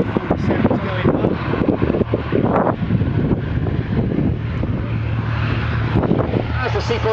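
A Douglas C-47 takes off and climbs away, its engine drone steady and fairly loud beneath heavy wind buffeting on the microphone for the whole stretch.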